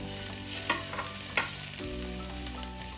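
Onions sizzle and caramelize in a pan for an orange chicken dish, a loud steady frying hiss broken by a few scraping stirs of a spatula.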